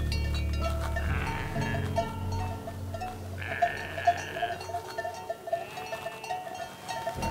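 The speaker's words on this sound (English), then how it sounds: "I love how you can hear them with all their bells." Blacknose sheep bleat near and far on an alpine slope near the Matterhorn, several bleats over a bed of irregular jingling and clanking bells.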